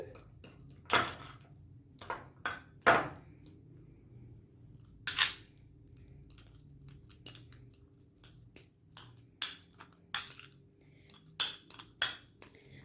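A utensil stirs a mashed banana mixture in a bowl, making scattered soft clinks and scrapes in an irregular rhythm against a quiet background.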